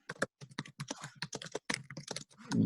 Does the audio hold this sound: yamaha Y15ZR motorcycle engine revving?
no